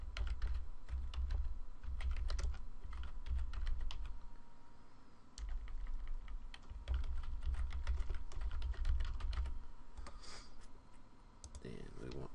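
Rapid bursts of typing on a computer keyboard while a blog post is written, close clicky keystrokes in uneven runs with short pauses, over a low steady hum.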